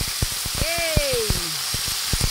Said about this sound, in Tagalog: pasunog-sugin muna natin yung sibuyas bawang natin